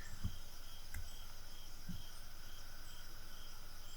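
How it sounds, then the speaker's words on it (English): Crickets chirping at night in the visual novel game Everlasting Summer, a faint steady high-pitched trill running continuously over low ambient background, with a few soft low thumps early on. "One could hear chirping crickets."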